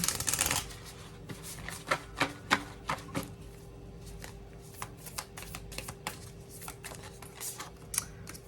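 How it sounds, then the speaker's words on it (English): Tarot cards are shuffled up close with a burst of riffling, then a series of soft irregular snaps and slaps as the cards stick and are worked apart, fairly quiet. "these cards are sticking together"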